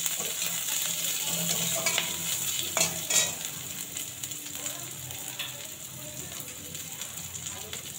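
Onions frying in hot oil with panch phoron and whole cumin, a steady close sizzle broken by scraping spatula strokes and a few clatters against the pan.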